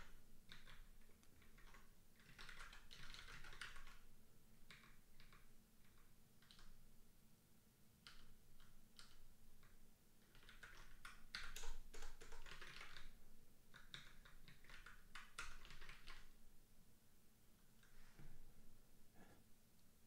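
Keys on a computer keyboard tap in quick irregular bursts with short pauses, soft and close, as someone codes a Haskell test at a desk.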